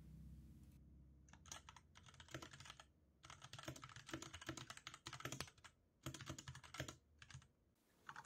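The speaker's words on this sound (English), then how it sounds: "This is my girlfriend typing on it since she types much faster than me." Fast typing on the keyboard of an e-ink typewriter: dense bursts of close, crisp key clicks broken by short pauses, fairly quiet and with no talking.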